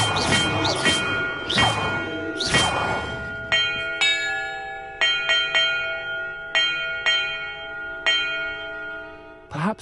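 Church-like bells ring in a Harry Potter video game, several loud clear strikes spaced irregularly, each ringing out with a long sustained decay and some overlapping tones.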